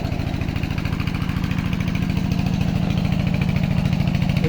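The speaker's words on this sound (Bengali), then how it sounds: "এখানটা শ্যালো মেশিন ভিতরে, তাই আওয়াজ হচ্ছে অনেক।" A shallow tube-well irrigation pump engine chugs steadily beside a mustard field, a loud, close, continuous low thrum with fast, even firing pulses and no voices.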